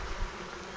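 A honeybee swarm, shaken out of a nuc box during transfer to a full hive box in October, gives off a steady, dense, close buzzing drone without any pauses or voices.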